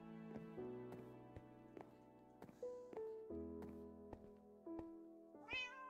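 Cats in the video game Minecraft meow repeatedly, a series of short tonal mews at irregular intervals over quiet game sounds, ending in a rising, higher-pitched cry.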